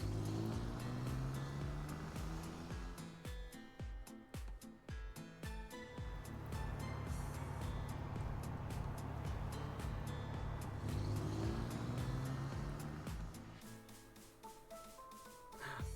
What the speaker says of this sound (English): Van's group went into the car.